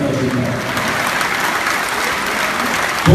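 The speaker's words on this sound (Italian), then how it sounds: "fategli un applauso" A large crowd at a political rally in Siena breaks into applause, loud and continuous with dense overlapping claps and a faint murmur of voices underneath.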